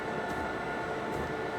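Train rumbling steadily along the line in Dovetail Train Simulator 2022 on a snowy approach to Harburg, a constant broadband rolling drone with no voices.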